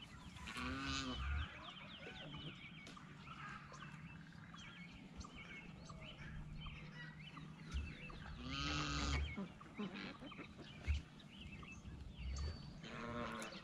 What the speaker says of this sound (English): Those guineas venture so far.